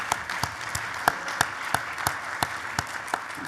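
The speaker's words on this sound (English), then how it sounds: "just a little round of applause for those 2" A small audience at a practice administration meeting gives a brief, light round of applause, scattered individual claps standing out over quieter background clapping.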